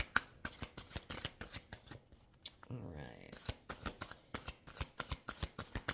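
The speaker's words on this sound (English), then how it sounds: "Shuffling on camera is just not my thing because it takes so long" A deck of cards being shuffled by hand in a series of quick riffles and snaps, close and crisp, with a short pause in the middle; a voice speaks briefly over it.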